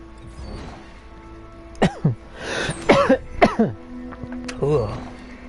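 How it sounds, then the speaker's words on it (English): A few sharp coughs and throat-clearing sounds close to the microphone, interspersed with brief vocal noises. "Those filters are making me cough."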